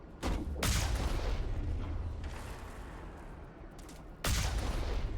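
Gunfire in the game Mass Effect: heavy broadband bursts crack out near the start and again near the end, with a rumbling, crackling fusillade of shots sustained between them. No one speaks.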